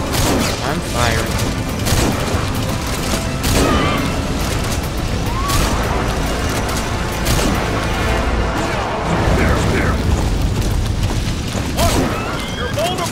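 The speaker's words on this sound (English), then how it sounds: "Fire! I'm firing." Gunfire and heavy explosions in Metal Gear Solid 5, dense repeated booms and shots packed throughout, loud and close, with voices talking over the action.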